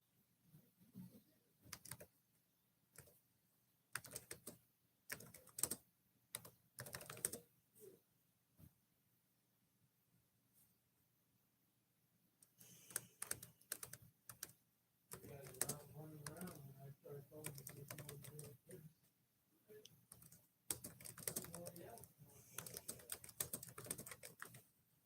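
Bursts of typing on a computer keyboard, quick irregular clicks in clusters separated by quiet pauses, faint and close in a quiet room, with occasional soft speech.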